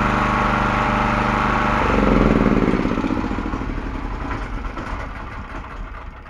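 A small engine with a freshly rebuilt carburettor, pull-started aboard a 56 ft steel boat, catches and revs up briefly before settling into a steady, slightly uneven idle putter; no talking.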